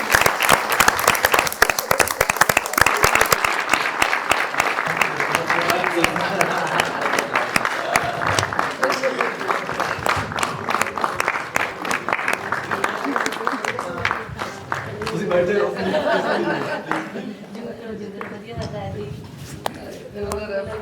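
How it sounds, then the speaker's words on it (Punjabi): An audience bursts into loud, dense applause welcoming a singer on stage, a sustained crowd clapping that gradually thins out before a voice takes over. "ਉਹਨਾਂ ਨੂੰ ਪਹਿਚਾਣੋ ਤੇ ਤਾੜੀਆਂ ਮਾਰੋ ਕਰੋ ਸਵਾਗਤ ਉਹਨਾਂ ਦਾ"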